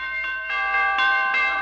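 Door chimes ring out in a 1951 Harold Peary radio comedy broadcast, a run of four bright, sustained bell tones struck in quick succession and left ringing alone.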